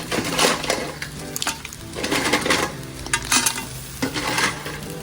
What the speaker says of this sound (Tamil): நண்டு கால் எல்லா பகுதியுமே போட்டு நல்லா ஒரு பரட்டு பரட்டி வதக்கணும்